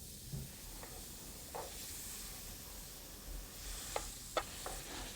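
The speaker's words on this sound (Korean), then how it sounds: "고기의 붉은색이 거의 보이지 않을 때까지 잘 볶아줍니다." Beef stir-fried in a frying pan, a faint, steady sizzle broken by a few soft scrapes and sharper clicks from the spatula toward the end.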